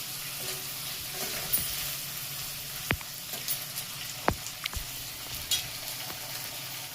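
Chopped onion pieces frying in a pan for a broad bean curry, a steady soft sizzle with occasional sharp spatula scrapes and clicks as they are stirred, no voices.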